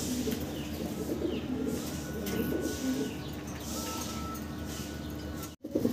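Fancy pigeons in a seller's loft coo repeatedly, soft low calls rising and falling over a constant background hum.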